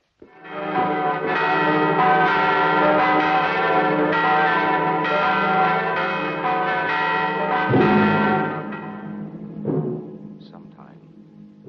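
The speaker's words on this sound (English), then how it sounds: "Now is the time to ring the bell." A large church bell rings loudly with rich, sustained overlapping tolls that swell and then fade away, with some background voices in a period-drama setting.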